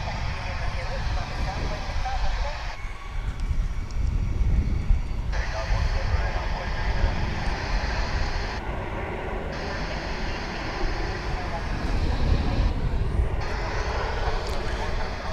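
American Airlines jet taking off from DFW International Airport, a loud sustained engine roar and rumble filling the whole stretch, with someone talking over it.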